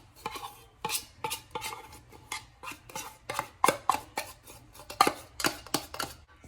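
A metal spoon scraping condensed milk out of a can, a series of sharp, repeated scrapes and clinks at an uneven rhythm, close and fairly loud, no voices.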